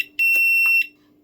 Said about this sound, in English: it'll tell you when it reaches the end by doing a long beep